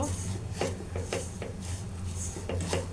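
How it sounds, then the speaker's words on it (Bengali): Food being stirred in a pot gives soft scraping and light knocking strokes in an irregular rhythm, close and moderate in level, with a voice speaking briefly over it. "ভালো করে আমি নাড়াচাড়া করব।"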